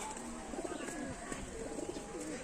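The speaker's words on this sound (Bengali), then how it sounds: "অনেক পায়রা, অনেক পায়রা" Pigeons at a breeder's loft in bright sun, several soft low cooing calls overlapping in a gentle warbling rhythm, close by, against a steady background hum.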